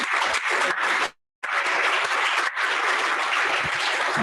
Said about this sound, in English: And a big round of applause to Dawit as well.